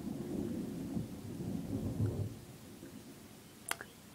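Low rumbling thunder with steady rain rolls through the first half, fading into softer rainfall, followed by a couple of sharp crackles near the end.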